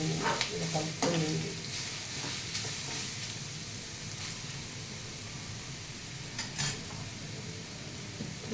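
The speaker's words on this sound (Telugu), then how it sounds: "ఇలా మొత్తం హై ఫ్లేమ్ మీద కొంచెం కలపండి." Beetroot sizzles in a pan over high flame while being stirred. Quick scraping and tapping strokes come early and again near the end, over a steady, moderate frying hiss.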